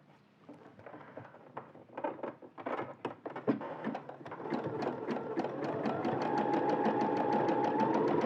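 A domestic sewing machine stitching elastic onto fabric, starting with a few slow, separate needle strokes, then speeding into a steady, loud, continuous whirring run of stitches close by.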